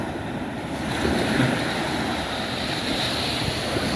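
Sea wind and surf at a Mekong-area riverside or coastal spot on a stormy day, a steady broadband rush of wind buffeting the microphone over continuous wave wash, with no voices.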